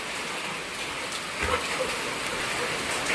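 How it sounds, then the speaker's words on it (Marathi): Rain comes down steadily outdoors, an even patter and hiss that swells slightly in the second half, with no one talking. "पाऊस सुरू झालाय आम्ही येईपर्यंत नव्हता"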